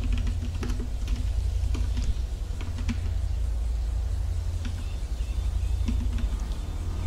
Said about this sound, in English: I am like typing in everything